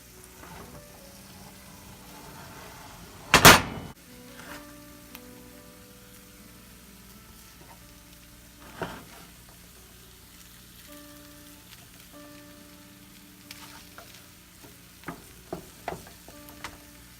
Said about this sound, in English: I'm basically just browning the sides of the corned beef hash